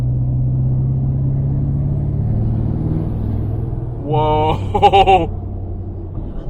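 A Ford F250 with a 6.7 Powerstroke diesel and a big non-VGT turbo drones in the cabin, then a rising turbo whistle and whine surge briefly as it accelerates, with a short exclamation over it.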